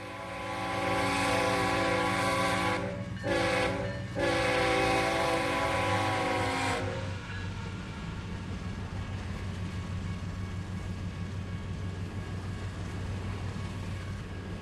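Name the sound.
freight train passing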